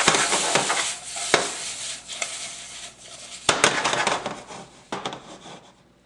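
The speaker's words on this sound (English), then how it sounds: "And now I've got a saute or a stir fry of sesame oil," Shrimp and onion sizzle in sesame oil in a pan, a steady close frying hiss broken by sharp crackles and pops and occasional stirring clatter.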